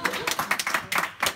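Scattered clapping from a game-show studio audience welcoming a contestant to her feet, a handful of separate claps in an uneven rhythm, fairly close, with a host's voice over it.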